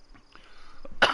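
A person with a cold coughs once, sharp and close, after a few quiet breathy sounds.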